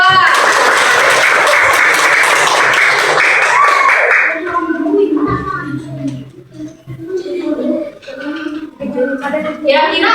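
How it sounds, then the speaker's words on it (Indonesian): Classroom applause for a student group during a school lesson, a dense burst of many hands clapping for about four seconds before it stops and voices take over. "silakan beri aplaus untuk kelompok 2"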